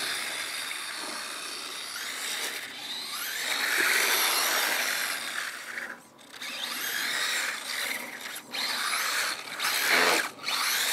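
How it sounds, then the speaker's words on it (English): A Vaterra Kemora 1/14-scale RC rally car whines under power while its tire rubs against the body canopy, making a steady buzzing, scraping drone that surges and dips as it drives, with no talking. "That's the tire rubbing up against the canopy."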